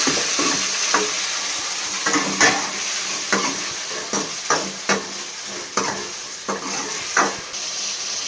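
Tomatoes being mashed into a pulp in a cooking pan for a tamarind curry, with wet squelching pressure strokes and soft scrapes repeating at an uneven rhythm over a steady sizzle, close and fairly loud.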